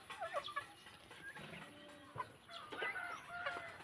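A flock of backyard chickens, including hens, clucks and squawks in short overlapping bursts, fairly faint and close-by, with no talking.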